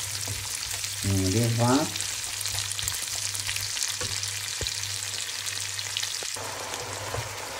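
Meat frying in a pan with onions and garlic gives a steady, close sizzle throughout, with a few clinks of utensils. A voice briefly speaks early on, over the frying.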